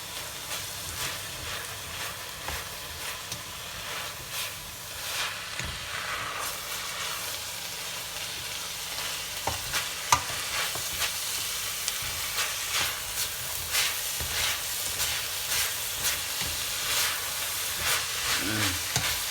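Seasoned enchilada filling sizzles steadily in a pan while being stirred after salt, cayenne pepper, seasoning salt and black pepper go in, with a constant hiss and occasional scraping taps throughout.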